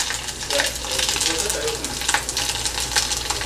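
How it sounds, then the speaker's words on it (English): Chicken kola deep frying in hot oil, a steady crackling sizzle with bursts of bubbling and faint stirring clinks, close and continuous. "Yeah, I'm going to fry this one."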